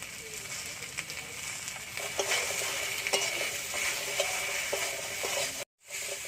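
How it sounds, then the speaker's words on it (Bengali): Vegetables frying in a pan with turmeric and salt give a steady, close sizzle. Stirring scrapes and light clinks run throughout, with a brief dropout near the end. "সবজিটা ভালো করে ভাজা হয়ে গেছে"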